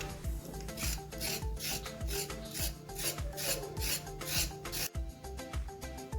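Carrots being cut, or grated, for carrot halwa: steady, fairly loud rhythmic rasping strokes, about two per second, with no talking.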